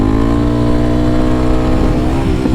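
A motorcycle engine held at high revs in second gear during a wheelie, a loud sustained droning whine with a steady pitch, close and alone.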